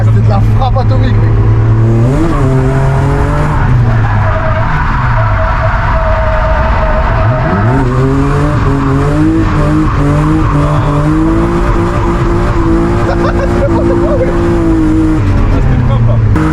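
BMW E36 drifting at a drift event, engine revving hard and falling with repeated pitch swings while tires squeal loudly, close and continuous, with voices talking over the car noise.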